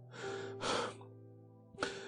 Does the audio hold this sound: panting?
yes